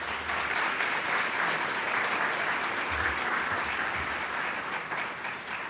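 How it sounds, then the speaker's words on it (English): Sustained applause at a school district student recognition event, a dense crowd clapping steadily throughout at an even, moderately loud level. "Another round of applause for them as well."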